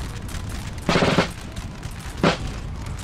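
Two booming artillery volleys from cannon crews in the Napoleonic-era strategy game Napoleon: Total War, set in a Balkans campaign, each burst loud and brief with a lull between over steady battlefield ambience.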